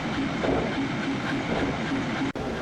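Diesel engines from an animated railway story rumble along the tracks through the mountains, a steady, fairly loud rolling train noise with faint rhythmic clatter and no talking.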